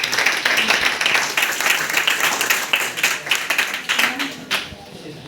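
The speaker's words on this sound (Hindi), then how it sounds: "सभी तालियों से उनका स्वागत करेंगे" An audience claps in welcome for an invited speaker at an academic field project and report writing session, a steady ripple of many hands that thins toward the end, with some voices mixed underneath.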